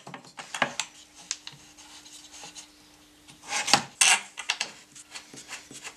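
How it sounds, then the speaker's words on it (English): Long machine screws threaded by hand into a small wooden spray-booth fan box, giving close, uneven scraping and rubbing with a few sharper knocks and no talking. "Okay, last screw going in."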